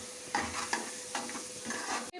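Paneer pieces fry in a pan until browned, giving a quiet, even sizzle broken by a few soft stirring scrapes, with no talking.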